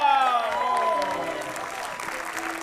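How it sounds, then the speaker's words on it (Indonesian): Studio audience applause at an Indonesian comedy talk show, a steady wash of clapping for the whole stretch with some voices faintly underneath. "tepuk tangan dulu dong"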